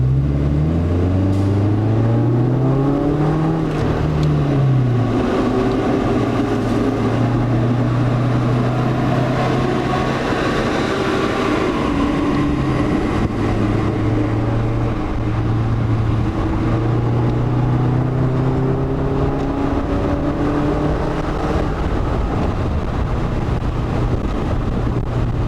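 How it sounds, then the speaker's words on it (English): A 2015 Subaru Legacy with a muffler delete driving with the windows down, a steady engine drone that rises and falls through gear changes, buried under loud, constant wind and road rush. "even now, with the windows down, you can't even really tell it's got an exhaust on it"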